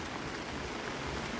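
Rain falls steadily outdoors in Guyana, a soft, even hiss of drops on surfaces, faint and continuous with no voices.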